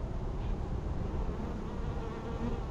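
Honeybees at a hive bringing in pollen, a dense, continuous buzzing hum heard up close, steady and fairly loud with no talking.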